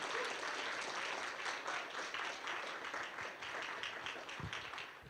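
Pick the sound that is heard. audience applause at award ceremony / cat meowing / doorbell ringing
audience applause at award ceremony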